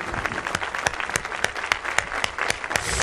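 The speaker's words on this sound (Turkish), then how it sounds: "Vallahi ben de alkışlıyorum" A studio audience on the 2006 İbo Show applauds, crisp individual claps standing out within a loud, steady wash of crowd clapping.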